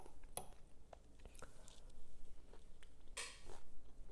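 Someone chews crunchy broccoli steamed in an Instant Pot, giving a few close, sharp crunching bites with small irregular clicks between them.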